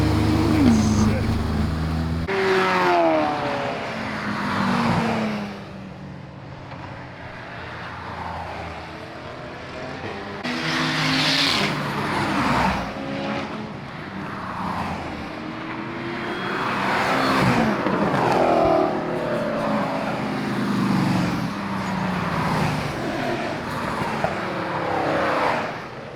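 A Toyota GR Corolla and other cars run laps on a race track at twilight, their engine noise repeatedly swelling and fading as they pass at a distance, with people talking over it.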